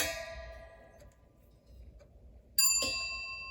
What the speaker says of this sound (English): hit the bell for that peaceful